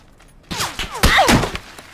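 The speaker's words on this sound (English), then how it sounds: "He's shooting from southwest." Close gunfire in PlayerUnknown's Battlegrounds: a quiet opening, then a rapid burst of several sharp, booming shots with ringing echoes, heard on its own with no talk.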